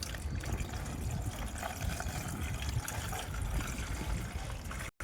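Water pours steadily into a water lily pot, a continuous splashing gush at close range with no voices.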